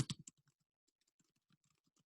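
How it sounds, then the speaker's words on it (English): Typing on a computer keyboard produces a few louder key clicks at first, then a quieter scatter of irregular taps with short pauses between them, close and alone. "While I'm typing this, I can talk at the same time"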